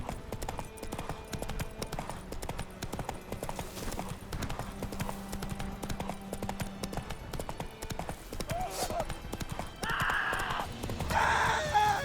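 Roach the horse in The Witcher 3 game trotting with continuous clip-clop hoofbeats at close range, joined near the end by louder bursts of shouting or groaning vocal effects.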